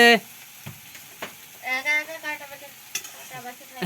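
Okra fries with salt in a pan. Faint sizzling and a few sharp utensil clicks come through while a person talks over it close by.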